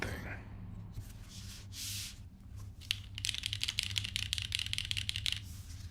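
A mechanical keyboard without a case being typed on, an uneven run of crisp, close keystrokes that becomes rapid and continuous in the second half, with soft rubbing noises and a low hum beneath.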